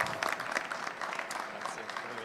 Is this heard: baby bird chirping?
no